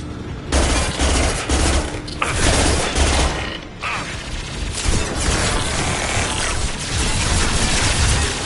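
Mass Effect 2 combat on PS4 Pro: dense, loud gunfire bursts and booming concussive impacts crowd together, with brief lulls between volleys and mechanical clatter throughout.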